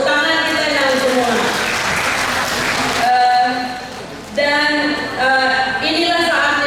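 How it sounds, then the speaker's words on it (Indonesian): Audience applause at a women's church gathering in Jakarta, clapping rising under and between amplified speech and music with a strong harmonic tone, fairly loud and close. "Tepuk tangan kita yang semua."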